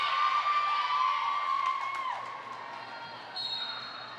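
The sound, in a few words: fans cheering at a high school volleyball game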